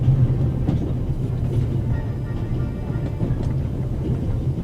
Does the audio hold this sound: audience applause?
no